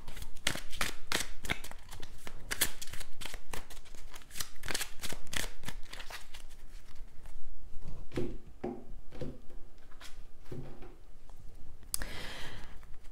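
Tarot cards handled and shuffled by hand, a rapid series of crisp riffling clicks and slaps, close and clear, thinning into slower, softer taps and a final brush of cards.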